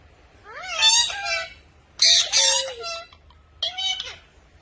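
Pet parrots on a large indoor play stand give three bursts of squawking, whistling calls, loud and close, separated by short pauses.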